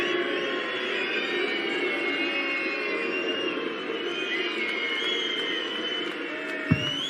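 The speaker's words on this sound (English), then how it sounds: "And now the crowd starts to make some noise." At the Baltic Sea Darts Open, a first-round match between Gabriel Clemen and Daryl Gurney, the crowd keeps up a steady roar with whistles and sustained cheering, plus one sharp knock near the end.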